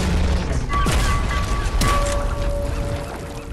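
Gunfire in the video game Fortnite hitting the player: a dense, continuous barrage of booming shots and impacts with bright transient bursts, loud throughout with game effects layered over it.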